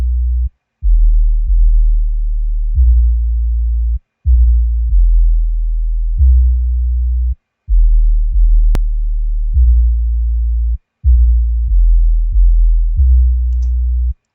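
Deep 808 bass notes in an FL Studio beat thump in a rhythmic pattern, long booming low tones separated by brief gaps, with little else playing.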